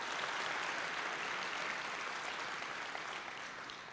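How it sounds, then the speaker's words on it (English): An audience at a recovery event applauds, a steady, even wash of many hands clapping together, distant and fairly faint, sustained without a break and easing slightly at the end. "let's give them a round of applause."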